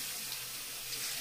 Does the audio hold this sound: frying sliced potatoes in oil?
no